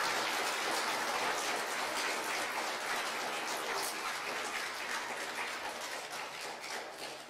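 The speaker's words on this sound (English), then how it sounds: "Keeping the claps going" A church audience claps steadily at an ordination ceremony, a dense wash of many hands that stays loud throughout and eases slightly toward the end, with no talk over it.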